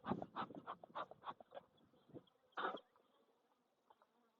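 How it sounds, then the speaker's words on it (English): Honeybees buzz around a hive frame lifted from a recently split hive, a steady insect drone with a few louder bursts of wings sweeping close, then thinning out to a fainter hum. "wait for the wind to die down just a little bit before I shake this, and we'll kick these bees off of it"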